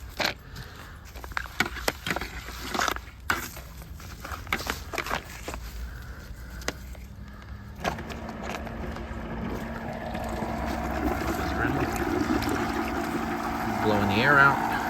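A small electric pump starts up and runs steadily, circulating descaling solution through a tankless water heater with a continuous hum and sloshing flow, after some handling noises, building slightly louder toward the end.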